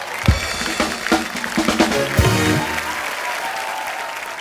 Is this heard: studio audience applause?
yes